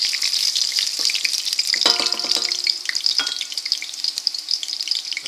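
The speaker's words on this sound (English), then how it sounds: "We'll put the garlic in. You can see it's cooking nicely." Garlic fries in hot olive oil with a steady crackling sizzle, close and fairly soft, with a brief clatter of stirring partway through and no talk.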